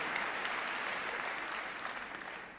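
A church congregation at a Bethany service claps together, a dense, even patter of applause at moderate distance that fades a little as it goes on, with no voices over it.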